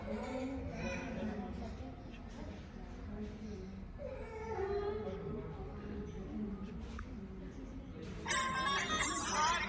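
Mobile phone ringtone playing as a repeating electronic melody, heard under continuous overlapping conversation in a busy room, with a brighter burst near the end.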